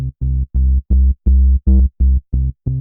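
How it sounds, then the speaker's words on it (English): Sawtooth and square wave oscillators from the Logic Pro ES M synth sound nine short, evenly spaced buzzy tones, loud and dry, each held briefly and then cut off, with nothing else heard. "I've got what's referred to as a sawtooth wave here and a square wave here."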